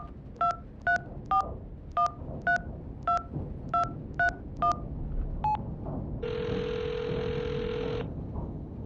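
A phone keypad beeps out a number in eleven quick two-tone presses, evenly spaced at first with a short pause near the end, followed by a longer steady tone lasting about two seconds, all fairly quiet with no voices.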